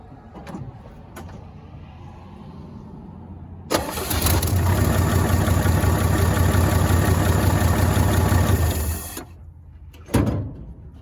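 A 1965 Chevrolet C10 short-bed pickup engine cranks and catches near the four-second mark, then idles loudly and steadily for about five seconds before shutting off, followed by a brief clunk.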